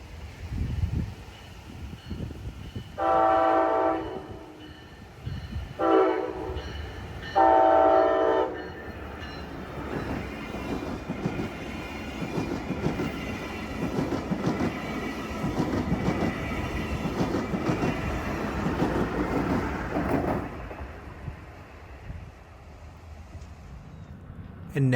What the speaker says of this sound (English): The Princess Cruise Line's Wrap train was first, passing south across Fern Street.